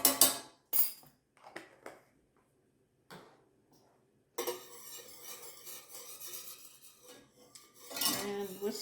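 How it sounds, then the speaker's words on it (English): Poultry seasoning being whisked into a turkey pot pie mixture in a pot: a few sharp metal clinks and taps, then a sustained run of rapid whisk scraping and clattering against the pot, close up, no talk. "And whisk it around again."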